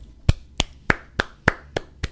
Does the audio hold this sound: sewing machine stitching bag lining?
no